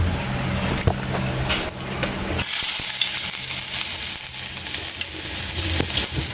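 Chopped ginger drops into hot cooking oil in a pan and sizzles loudly, with a burst of frying and stirring midway that settles into a steady crackle close by.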